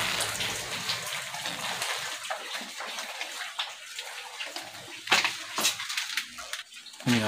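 Steady patter of rain with dense dripping and splashing, continuous throughout, with a few louder drops and splashes near the end.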